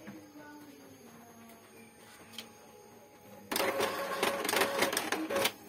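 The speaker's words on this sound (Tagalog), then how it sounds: "Tulungan ang printer na kainin." An Epson L3153 inkjet printer whirs and clatters as paper feeds through, a steady mechanical rattle that grows louder partway through, with faint background noise before.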